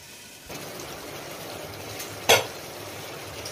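Goat meat cooking in a pot over a medium gas flame gives a steady low simmering sizzle, with one sharp clatter of a utensil partway through.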